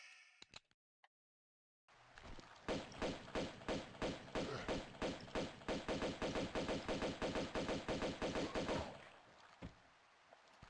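Rapid pistol gunfire in Tomb Raider II Remaster, a long run of loud evenly spaced shots firing for about seven seconds after a brief silent gap, ending abruptly.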